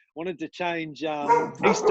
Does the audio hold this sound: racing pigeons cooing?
no